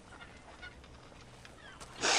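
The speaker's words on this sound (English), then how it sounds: "Look at these poor fucking birds. All covered in some kind of fucking oil" Oil-covered birds give goose-like honks, faint and scattered at first, then a loud, harsh honk bursts out near the end.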